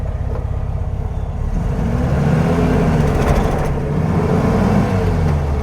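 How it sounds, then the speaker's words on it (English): A 1957 VW Beetle's air-cooled engine runs loud and close while driving on the road, a steady rough drone that rises as it accelerates, with no talking over it. "that engine is loud"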